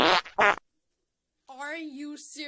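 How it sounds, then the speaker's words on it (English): Cartoon farting sound effect in an animated dance-off scene, two quick loud bursts at the start, then a pause before a character speaks. "What's wrong with farting sounds?"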